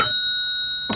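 A single bright desk bell ding rings out and fades in a clear, sustained tone, with a brief bit of sound at the very end.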